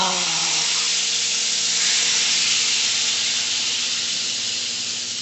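Garlic butter sauce hits a very hot pan and gives a loud, continuous hissing sizzle that fades only slightly over a few seconds, with no voice over it.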